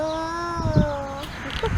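A person's voice imitates a cat, drawing out a sustained, tonal meow that slides gently downward, followed by a few shorter vocal bursts, close and fairly loud.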